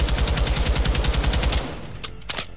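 A Taq 56 rifle in the video game MW2 fires a fast, steady automatic burst at a firing range for about a second and a half, loud and close, followed by a few faint mechanical clicks.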